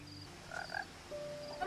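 A frog croaks in the game What Remains of Edith Finch, two short soft calls over quiet ambient noise, very brief and distant-sounding.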